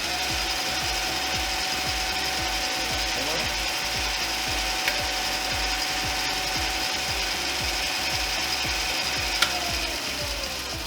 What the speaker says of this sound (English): There's a little 4-inch Delta Homecraft joiner. Sounds pretty good.